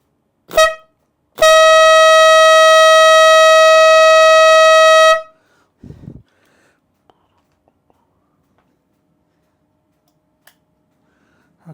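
A motorcycle horn from AliExpress, tested for loudness on a bench power supply, gives a short blast and then a loud steady tonal blare of about four seconds, followed by faint clicks and handling noises.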